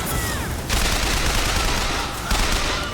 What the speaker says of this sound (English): It's like I'm carrying around a fucking LMG. But with very fast reload times.